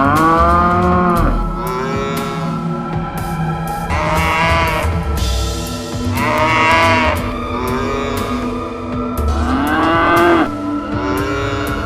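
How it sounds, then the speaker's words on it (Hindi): Cows moo loudly and repeatedly from a cowshed, long drawn-out calls overlapping one another, with a goat bleating among them, close and continuous. "गौशाला की तरफ से गायों और बकरी के जोर जोर से चिल्लाने की आवाज आई।"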